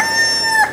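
A rooster crows once, briefly and fairly close, with a rising and falling call and no other sounds around it.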